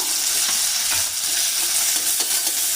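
Small onions and tomatoes sauté in a cooker for a mutton bone soup, making a steady, even hiss with soft occasional stirring scrapes, close and constant, with no one speaking.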